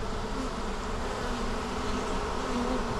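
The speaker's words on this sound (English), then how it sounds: "a lot of bees are still flying around here" Swarm of honeybees flying around a hive box after being transferred from a bucket, a dense steady buzzing drone filling the air close by with no talk.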